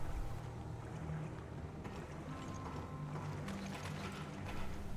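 A spinning gear mechanism in Resident Evil Revelations gives a steady mechanical rumble with grinding, ratcheting texture and faint periodic clicks, continuous and moderately loud throughout.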